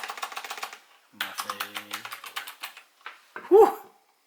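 Rapid clacky typing on an Azio Retro Classic Bluetooth keyboard, bursts of close, crisp keystrokes separated by brief pauses, ending with a louder thump.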